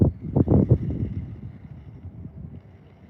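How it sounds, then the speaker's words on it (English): Wind gusting outdoors on the water while a fisherman paddles a small boat, rough low buffeting strongest in the first second, then easing to a steadier rumble, with no talk. "There's that wind."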